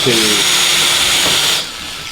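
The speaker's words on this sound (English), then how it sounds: "put the screws in it, and then drill the others" A power drill whines steadily at high speed for over a second, then cuts off, leaving a quieter hum.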